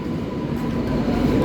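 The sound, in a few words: Howrah to Satya Sai Prasanthi Nilayam weekly express train arriving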